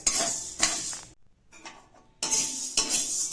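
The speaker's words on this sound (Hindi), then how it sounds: "कढ़ाई में फ्राई कर रही हूँ मैं" Green moong beans dry-frying in a metal kadhai, stirred with a spoon in bursts of rattling, scraping clatter separated by a brief near-silent pause.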